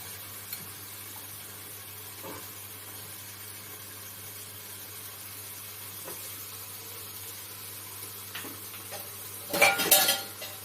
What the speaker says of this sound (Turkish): Sonrasında bütün kavurduğumuz malzemelerin içerisine bezelye, patates ve havucunu da ilave edip